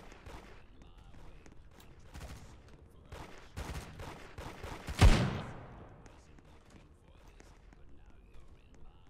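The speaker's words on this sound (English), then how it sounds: "I love the sound of the Deagle" Rapid gunfire in the Roblox game Da Hood, a string of shots building to one loud, booming Desert Eagle blast at about five seconds that rings out and fades, with a person talking over it.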